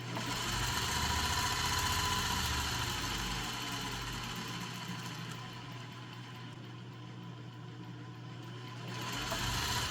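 A Singer 301 sewing machine motor running under an electronic foot control, giving a steady close mechanical whirr and hum that dips slightly in the middle and rises again toward the end, with no voices.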